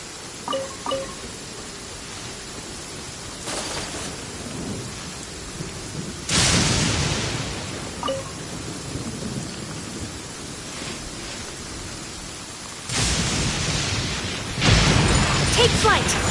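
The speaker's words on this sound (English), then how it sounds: "Let us find shelter from the rain." Steady rain falls in the Genshin Impact video game, with two loud rolls of thunder crashing through the downpour and a third rumble building near the end.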